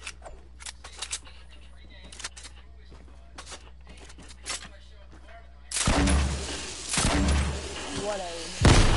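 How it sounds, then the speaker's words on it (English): Sharp gunshot bursts ring out in the second half, several loud cracks and booms in quick irregular succession after a quieter stretch with faint clicks and background hum. "Well, somebody's shooting at us."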